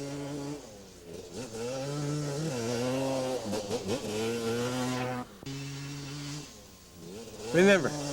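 An ATV engine revs hard and steadily while the quad rides through a slide with the throttle held on, rising and falling in pitch, with a brief cut near the end before a sharp rev climbs again.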